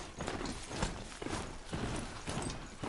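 A horse gallops in the Horizon Zero Dawn video game, its hooves beating in a quick, steady clip-clop rhythm that carries through the whole stretch.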